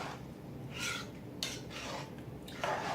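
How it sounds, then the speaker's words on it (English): Cheesy tamale pie mixture being stirred in a pot, a few scraping, rasping strokes of a spoon against the pot at an uneven pace, fairly close and quiet. "now we're just going to stir all that in"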